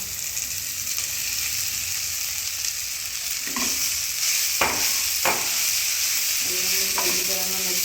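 Vegetables frying for poha with salt and turmeric, a steady loud sizzle throughout with a few sharp spoon scrapes against the pan near the end.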